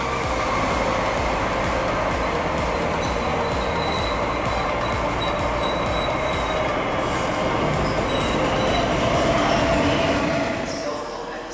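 A train at Ulm main station, with continuous rolling rumble and wheel noise filling the whole stretch, steady and fairly loud, with faint high squeals and hiss and a voice speaking over it.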